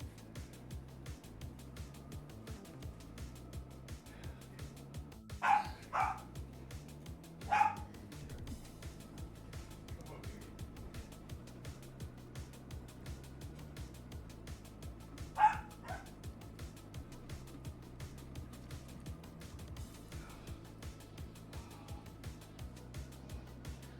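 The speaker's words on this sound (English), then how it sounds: "When your dog barks, your PNG moves. I know, because he's so loud." A dog barking a few sharp times, two close together early and another a while later, fairly faint over a low, steady rhythmic background hum.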